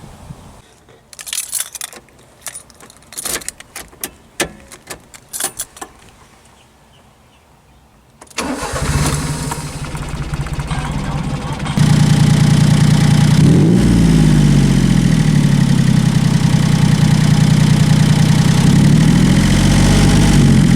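A Kei truck engine with a freshly cleaned carburetor: scattered clicks and clatter, then the starter cranks, the engine catches and settles into a loud, steady close-up idle with a constant low hum.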